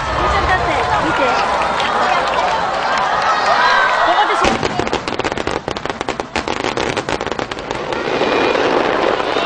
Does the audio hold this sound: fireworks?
yes